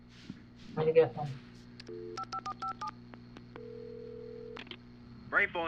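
Telephone keypad tones dialing a number in the video game Alan Wake Remastered, a quick series of distinct beeps followed by a longer steady tone, with someone speaking briefly before and after.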